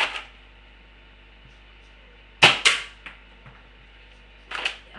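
A BB gun fires twice in quick succession, with sharp, loud snapping cracks, and a third softer shot follows a couple of seconds later against a quiet background.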